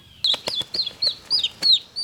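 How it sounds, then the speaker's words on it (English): A wild turkey hen gives a series of short, rising yelps in a quiet woodland setting, about six or seven evenly spaced calls in quick succession, fairly close and loud with no other sounds around. "we saw a hen jump up, a turkey hen"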